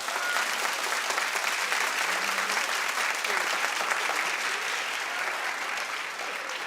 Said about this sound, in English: clap if you're with me and you think she probably exaggerated this